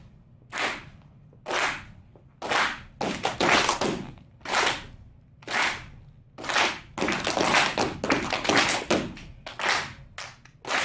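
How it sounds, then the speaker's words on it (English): An audience claps in a steady unison rhythm at a school open house student showcase for a step team, with loud, sharp hand claps repeating evenly, at times doubling up into quicker bursts. "Everybody clap your hands like this."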